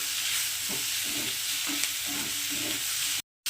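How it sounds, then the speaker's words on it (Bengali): Onion and capsicum fry with salt in a pan, giving a steady close sizzle broken by a few soft stirring scrapes, with a brief cut to silence near the end. "তো এটাকে আমি আর একটু ভাজবো"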